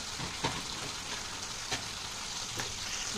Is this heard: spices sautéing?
yes